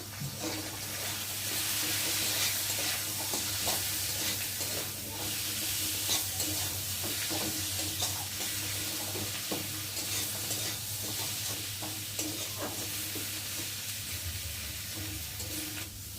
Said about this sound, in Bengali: মশলাটা আগে ভালোভাবে কষিয়ে নেব